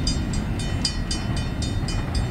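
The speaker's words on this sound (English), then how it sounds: "CSX train Q582 heading southbound to Chester, South Carolina, along Fifth Street and at Salutis Road." A southbound CSX freight train, Q582, rolls past at Fifth Street and Salutis Road in Chester, South Carolina, on the Monroe Subdivision with an ET44AH locomotive leading. A loud, steady rumble carries regular rhythmic clacks from the wheels.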